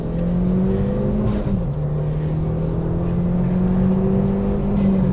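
An Audi TT engine revs hard with exhaust note, a loud sustained drone that climbs, dips briefly, then holds steady and rises again, close to the microphone with no talk.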